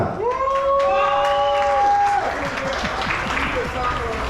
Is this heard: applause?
yes